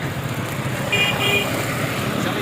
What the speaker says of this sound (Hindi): ये है पुलिस वालों की गाड़ी